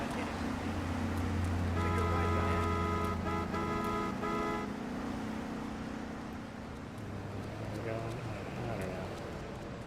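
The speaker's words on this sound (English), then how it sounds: "Why does this car have an alarm?" A car alarm wails in Grand Theft Auto III, a repeating electronic siren pattern blaring for a few seconds over engine hum and traffic noise, then cutting off as someone talks over the scene.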